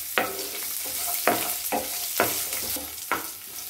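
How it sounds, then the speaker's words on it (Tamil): Shallots and garlic sautéing on a low flame, stirred in a steady rhythm: about six distinct scraping strokes of a spoon over a close, constant frying sizzle. "இதை வந்து நம்ம வந்து கொஞ்சம் லோ ஃப்ளேமில் அப்படியே வந்து கொஞ்சம் வதக்கிடலாம்"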